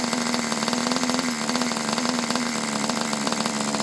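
A Kyosho Nitro Tracker RC nitro engine idles loud and close, a steady, buzzy, slightly uneven drone that holds throughout.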